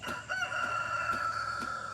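A rooster crows loudly and close by in one sustained, ringing call that fills the moment, with no voices over it.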